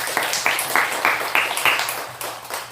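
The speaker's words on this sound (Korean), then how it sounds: "박수 한번 부탁드립니다" A church congregation at a Sunday worship service claps together in a steady, rhythmic beat of sharp, fairly loud claps that gradually thins out toward the end.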